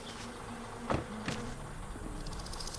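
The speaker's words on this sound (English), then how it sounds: "We are safe from dying to a bee." A bee buzzes close by in the video game My Summer Car, a steady insect drone with a couple of sharp clicks and bumps over faint background hum.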